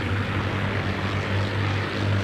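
Steady drone of a propeller fighter's engine in the air-combat game Scramble: Battle of Britain, a continuous loud hum with a strong low tone running unbroken throughout.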